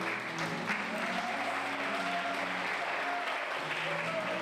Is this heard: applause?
yes